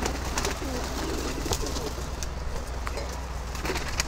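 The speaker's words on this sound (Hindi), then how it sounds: "बहुत ही ज़्यादा भूखा कबूतर" Pigeons coo nearby in a pigeon loft, low, throaty repeated calls over a steady background hum, with a few soft rustles and flaps.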